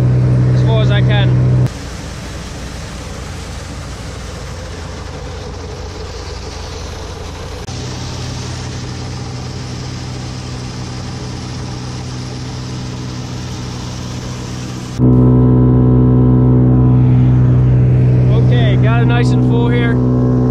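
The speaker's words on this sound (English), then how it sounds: "Now we're going to switch the blower up to the other silo" A forage blower roars loudly and continuously as it fills a corn silage silo on a farm, a dense mechanical rush that changes in pitch and level partway through.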